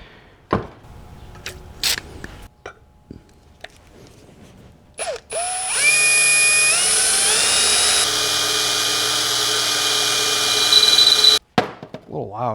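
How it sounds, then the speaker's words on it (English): An electric drill bores into a thick piece of metal locked in a vise on a budget engine test stand build, a loud steady whine that rises in pitch as it spins up and runs for several seconds before stopping abruptly. "using an actual drill and locking a piece of metal in the vise is really the way to go"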